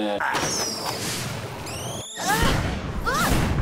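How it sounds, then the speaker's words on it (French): Cartoon skateboard fires explosive mini-skateboards, giving a quick series of whistling swoops, squeals and booming bursts, loud and busy throughout. "Un skate qui tire des mini-skates explosifs"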